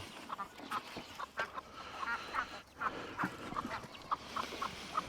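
Ducks and other fowl call in a busy farmyard at feeding time, with repeated short quacks and honks scattered through the scene at moderate distance, some overlapping and a few louder bursts among them.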